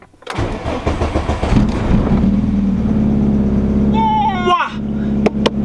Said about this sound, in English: just some good exhaust sound